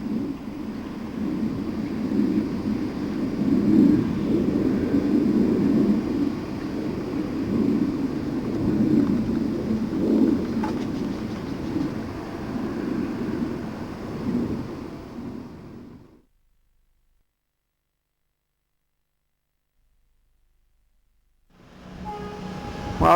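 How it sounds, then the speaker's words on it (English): A heavy loaded stone freight train rumbles past close by at a bridge near Wellingborough, a long steady roar of wheels and wagons that cuts off suddenly into silence before faint noise returns. "We just got to the bridge at the slips and a loaded stone train comes through."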